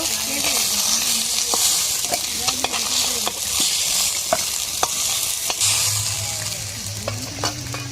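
Fish sizzles steadily in hot oil in a pan, with scraping and clinking of a spatula punctuating the frying and a low hum entering near the end.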